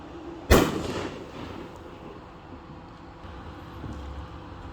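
A single loud boom from a 6-inch, 24-shot artillery firework shell bursts near the start, then fades into a long rumbling decay over quiet outdoor background.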